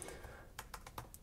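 Keystrokes on a computer keyboard during Python pandas data work, a handful of quick, close taps in an uneven burst over a quiet background.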